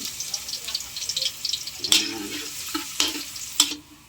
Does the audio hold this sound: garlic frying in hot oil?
yes